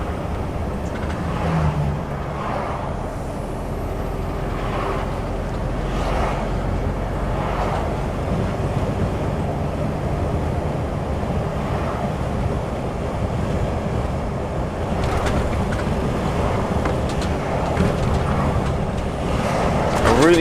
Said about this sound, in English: I really can't get over how quiet this truck is.